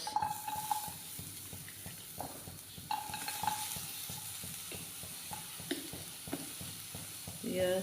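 Onions fry quietly in a kadhai for chicken masala: a soft sizzle runs underneath while a spatula taps and scrapes against the pan in irregular clicks.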